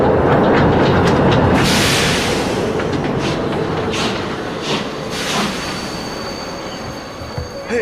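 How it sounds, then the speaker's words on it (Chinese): A steam-era train rolls into a station in a period drama set in the Republican era, loud rumbling and hissing at first, easing as it slows with a few faint clacks and a high squeal, no voices. "火车进站，大家往后站，"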